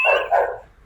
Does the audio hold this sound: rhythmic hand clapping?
no